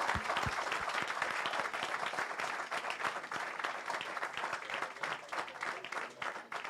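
Sustained applause from an audience at a religious gathering after a class, dense steady clapping throughout with a few louder claps near the start.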